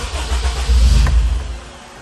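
A Honda Integra Type R's K20 engine, just fitted with a new throttle body, cranks and fires, then surges in a brief loud rev, a deep rumble swelling up close before settling.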